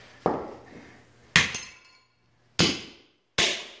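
A sledgehammer smashes the headlight on a treadmill in four sharp, loud impacts, each with a crack and clinking, shattering glass or plastic. The strikes come at uneven intervals with brief debris rattles between them.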